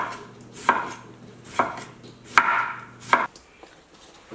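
A knife slices radish into thin pieces on a cutting board, four distinct crisp chops spaced about a second apart, close and clear with a faint background hum.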